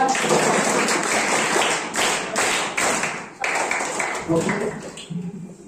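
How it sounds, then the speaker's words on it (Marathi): A group claps together to congratulate a quiz contestant, with irregular bursts of hand claps at close range and a voice speaking over them. "त्याच्या एकदा सर्वांनी टाळ्या वाजवून अभिनंदन करूया."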